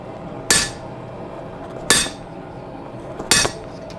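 Hammer blows ring out on a steel short sword blade while deepening the fuller during forging: three sharp, loud metallic strikes spaced about 1.4 seconds apart, each with a brief ringing decay over quiet shop background.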